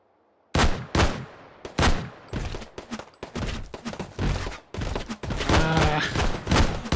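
Sniper rifle shots crack out one by one in Hot Dogs, Horseshoes & Hand Grenades, a VR shooting game, loud and sharp with short gaps, then quicker shots and a voice talking toward the end.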